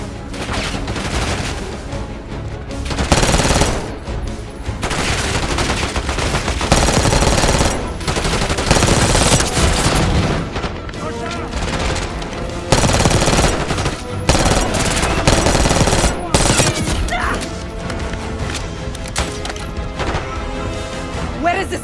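Dense, loud gunfire from a Call of Duty Black Ops 6 street shootout: rapid automatic bursts and crashing impacts layered with shouted voices throughout.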